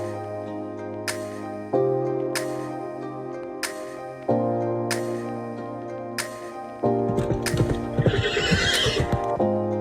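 Horses on a village estate in Nyabohanse, Tanzania, neigh repeatedly in drawn-out whinnies, while hoof clip-clops tick faintly underneath, close and fairly loud throughout.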